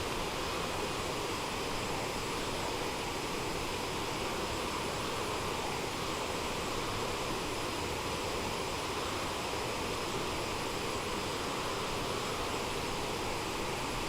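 Steady, unbroken roar of an Aerosoft CRJ-550 jet engine in Microsoft Flight Simulator, a dense broadband hum that stays constant throughout with no talk over it.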